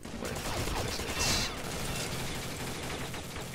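Rapid gunfire from a PP-19 Bison submachine gun in a first-person shooter, a dense continuous crackle of shots with clatter, steady and fairly loud throughout.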